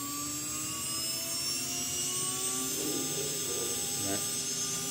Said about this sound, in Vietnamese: Đấy mình bấm run này. Motor bắt đầu quay.